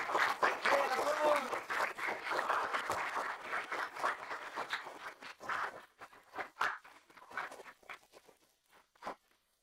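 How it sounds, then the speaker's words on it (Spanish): A studio audience on the comedy series Al Fondo Hay Sitio applauds a chef who lost a cooking contest. Dense clapping, mixed with talk, thins out into a few scattered, fading claps. "Por favor, un aplauso para Laia."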